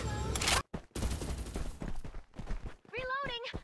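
Gunfire in the Farlight 84 battle royale video game rattles in loud rapid bursts, with short gaps and other game sounds between volleys.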